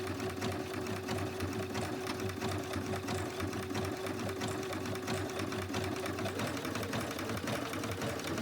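A sewing machine stitches fabric in a fast, steady, close mechanical chatter that keeps going for several seconds without pause, with no speech over it.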